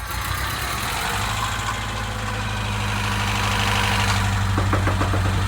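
A freshly rebuilt Honda D15B four-cylinder engine idles steadily and loudly up close right after its first start, with a continuous low rumble and a faint ticking, no voices over it.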